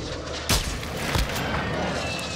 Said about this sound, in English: Oh, airstrike.